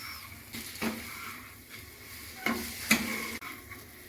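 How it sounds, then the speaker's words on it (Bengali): Fried cauliflower is stirred into masala in a pan, giving a soft background sizzle broken by several distinct spatula scrapes and taps against the pan. "তারপর ফুলকপির গায়ে ভালো করে মশলাগুলো মাখিয়ে নেব।"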